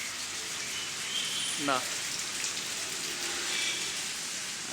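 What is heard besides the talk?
heavy rain falling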